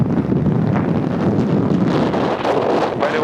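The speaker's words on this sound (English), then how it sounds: "Right now there's quite a bit of wind." Steady, loud wind buffeting the microphone while riding a motorcycle on the road from Xishuangbanna to Lancang in Yunnan, China, a continuous broadband roar with no talk.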